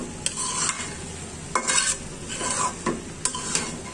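Shredded cabbage with prawns sizzling in an uncovered pan while a utensil scrapes and stirs it in a few distinct strokes, the frying hiss steady underneath, with no talking.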